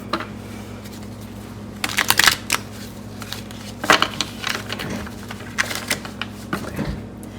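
A deck of tarot cards is shuffled in quiet bursts of riffling and snapping, a few short clusters over a low steady hum.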